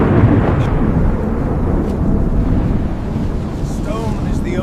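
A thunderstorm roars with a loud, continuous low rumble of thunder and gusting wind that holds steady for several seconds, close and heavy, with no voices.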